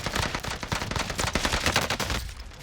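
Rapid automatic gunfire in the video game Warzone, a dense close burst of shots in quick succession that continues for a couple of seconds before easing off.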